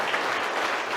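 An audience applauds at a live event, a steady wash of clapping hands sustained evenly for a moment without individual claps standing out.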